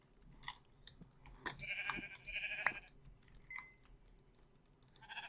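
Minecraft sheep bleating during a no-pickaxe survival game, a couple of faint, nasal bleats in the middle amid quiet clicks and game noise, with no one speaking.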